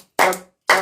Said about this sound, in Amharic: ጭብጨባ